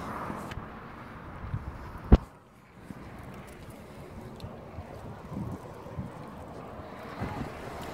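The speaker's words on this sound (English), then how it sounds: "Sorry for the wind," Gusty wind buffets a microphone outdoors beside a busy main road on a sunny day, a steady rough rumble with one sharp thump partway through and a brief lull after.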